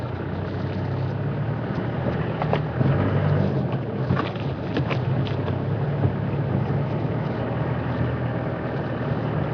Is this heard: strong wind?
yes